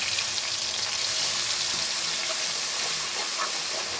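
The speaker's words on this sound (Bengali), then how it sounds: "তেলের মধ্যে ফোড়ন দেব গোটা জিরে, শুকনো লঙ্কা আর তেজপাতা" Whole cumin, dried chilli and bay leaf sizzle in hot oil, a loud, steady frying hiss close up with small crackles popping through it.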